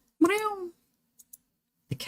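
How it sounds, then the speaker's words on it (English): An annoyed cat in an indie horror video game lets out one loud, drawn-out meow, followed by two faint clicks and a short burst of noise. "The cat sounds annoyed with you."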